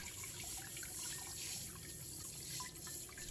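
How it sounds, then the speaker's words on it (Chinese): Lean pork is rinsed under a running kitchen tap, giving a faint, steady hiss of flowing water with small splashes as the meat is turned. "先把瘦肉清洗一下， 洗去表面的灰尘和杂物。"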